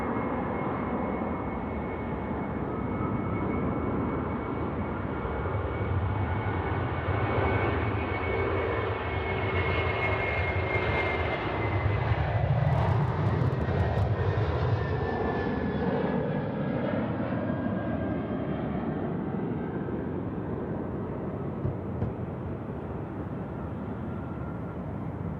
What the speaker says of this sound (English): Qantas to Perth, is it? A330 200.